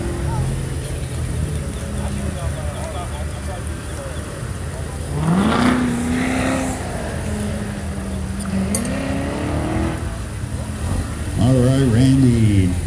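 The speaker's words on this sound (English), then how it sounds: "Chevrolet Corvette Grand Sport. Love the sound of that V8." A Chevrolet Corvette Grand Sport V8 at an autocross event, its engine note rising and falling through revs from a distance, with a commentator talking over it.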